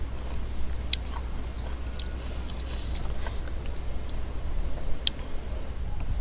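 Crispy pork crackling eaten alongside a bowl of Thai braised beef noodle soup, with close crunchy chewing and sharp bites over a steady low hum, no talking.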